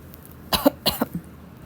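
A burst of three or four quick, close coughs over a faint background hiss, with no talking.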